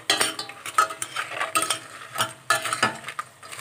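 Ingredients sautéed and stirred in a pot as the base for a seafood soup, with utensil scrapes and sizzling in uneven bursts, close and fairly loud, no talking.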